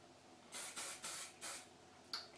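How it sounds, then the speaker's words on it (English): Paul Mitchell Hot Off the Press aerosol heat protector sprays close up in four quick, loud hissing bursts, then one final short spurt, in a quiet room. "It's by Paul Mitchell, and it's called Hot Off the Press. It's like an aerosol spray"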